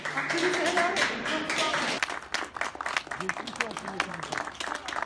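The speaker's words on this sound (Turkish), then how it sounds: "Bayburt Devlet Hastanesi koridorlarında yükselen alkışlar yeni taburcuları müjdeliyordu." Applause breaks out in a hospital corridor for discharged patients, a steady patter of many hands clapping at moderate distance, with voices talking and calling over it.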